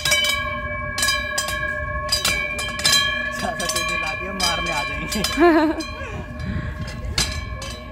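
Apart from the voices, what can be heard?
bell-type decoration being shaken at exhibition entrance gate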